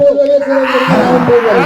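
A group of children roar together, imitating a lion at an outdoor workshop by the Triveni Ghat on the Ganges. Their voices start as a held tone, then swell into a loud, ragged collective shout that lasts the whole moment.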